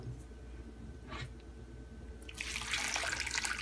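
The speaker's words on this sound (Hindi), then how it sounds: "अब हम इसमें पानी डालेंगे 4 कप।" Water runs into a cooking pot holding radish, a faint trickle that swells into a steady, louder pour in a quiet home kitchen.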